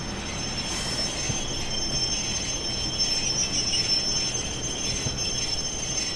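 A Class 142 Pacer diesel railcar in Train Sim World 4, on the Blackpool North to Preston route, braking toward a stop, with a sustained loud metallic wheel squeal over steady rumbling rail noise throughout.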